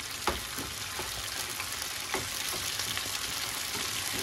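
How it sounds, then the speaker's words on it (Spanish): Meat fries in a pan with homemade sofrito, giving a steady crackling sizzle with occasional sharper pops and the scrape of stirring, close and continuous with no talking. "Cogemos y ponemos la carne a sofreír."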